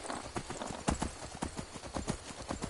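Hooves of Shadowmere, a horse in Skyrim, clip-clopping along a road in a steady, brisk rhythm, each footfall sharp and close, with a soft game ambience underneath and no speech.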